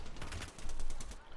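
Automatic gunfire in a video game comes as a quick, dense burst of close shots over about a second, heavy and loud, with a low rumble underneath.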